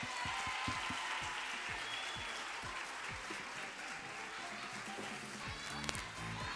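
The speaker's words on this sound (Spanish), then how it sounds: "¡Y un aplauso para ellos!" Steady audience applause fills a children's carnival contest, dense clapping with scattered sharper claps and a lively crowd wash throughout.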